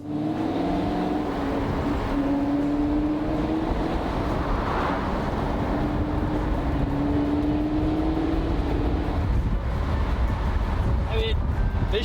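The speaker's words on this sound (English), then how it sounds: "You guys hear that rev up?" Engine of a 2021 Chevrolet Camaro SS heard from inside while driving, a steady deep drone with rising and falling pitch as it revs, under someone talking.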